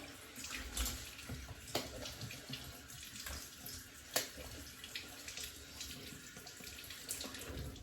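Tap water runs steadily into a bathroom sink while someone rinses off after a wet shave, a constant close splashing stream with a few small knocks and no speech.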